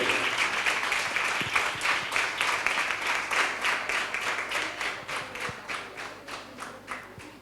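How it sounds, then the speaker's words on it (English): Audience applause at the Expressing Aspirations 2022 event for a student's drawings, a steady, fairly close round of clapping with a slightly pulsing rhythm lasting several seconds, no talking over it. "a big round of applause for Tanuja."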